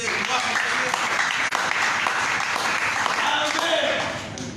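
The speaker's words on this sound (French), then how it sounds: "Applaudissons notre Dieu." A church congregation claps in a dense, steady burst of applause lasting several seconds before it tapers off, with voices mixed into the clapping.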